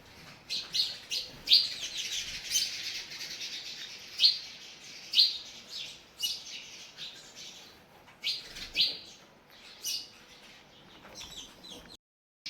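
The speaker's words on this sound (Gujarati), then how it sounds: "કેમ મસ્ત અવાજ આવે ચકલીનો." House sparrows chirping close by, bright short tweets arriving in irregular bursts with brief quiet gaps between them, nothing else heard.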